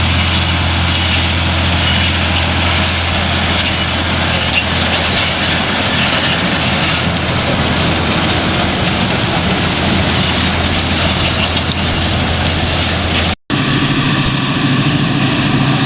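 Older John Deere tractors and combines working a farm field, a loud continuous engine drone with deep rumble and broad mechanical noise, steady throughout and close by.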